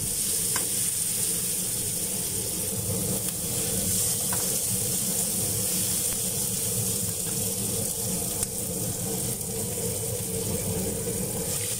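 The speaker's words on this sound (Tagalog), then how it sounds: "Haluin po natin hanggang sa maluto yung kamatis." Tomatoes, onion and garlic sizzle steadily in a hot pan while being stirred, a dense continuous frying hiss that stays loud and close throughout, with no talking.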